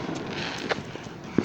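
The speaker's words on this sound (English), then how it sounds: "I'm like catching a lot of good fireworks on YouTube" Fourth of July fireworks burst outdoors in a couple of sharp distant pops and crackles over a steady background rumble, brief and moderately loud.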